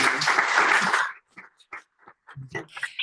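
After an architecture class, an audience gives a short burst of applause that stops abruptly after about a second, followed by a few scattered sounds and bits of voice.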